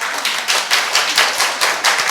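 Audience applause at a church gathering, a burst of clapping that swells in repeated waves over about two seconds, with no talk over it.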